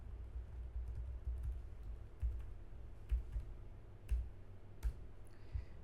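Fingers enter a 16-digit ID number on a computer keyboard, producing faint, scattered key clicks over a steady low hum, with a few sharper taps standing out.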